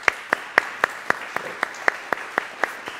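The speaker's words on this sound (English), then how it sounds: "Karen, raise your hand and give her a round of applause" Applause at a lecture for Karen Chenoweth, heard as about a dozen crisp, evenly spaced claps in a steady slow rhythm, fairly close and distinct with quiet gaps between each.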